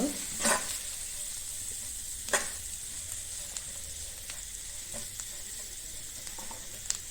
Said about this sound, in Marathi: आता ह्याच्यात थोडीशी कोथिंबीर घालूयात आपण त्याला जरा परतून घेऊया कोथिंबीर घातल्यावर